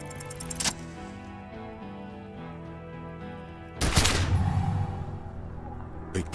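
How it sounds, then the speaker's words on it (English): A single heavy gunshot in the video game Disco Elysium bursts out loudly partway through a quiet musical passage, then its rumble decays slowly under the lingering music. "A plume of smoke and fire erupts from the gun, and your hand goes numb from the explosion."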